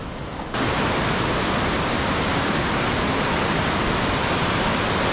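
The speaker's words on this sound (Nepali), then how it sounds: "यो खोला यस्तो बगिरहेको छ कि होइन।" A swollen river rushes past near Dupcheshwor Mahadev temple in Nuwakot, a dense roaring wash of water that starts suddenly and holds loud and constant.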